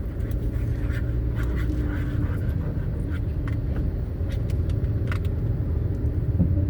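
Light to moderate road traffic in Davao City rumbles continuously, cars and motor vehicles passing in a steady low drone heard from inside a moving vehicle, with no talk.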